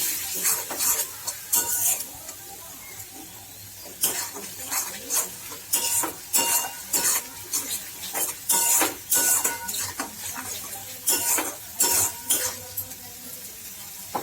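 Spoon stirring ground chicken masala into chicken tarka in a pan, with repeated scraping and clinking strokes against metal and a light sizzle, steady and close throughout.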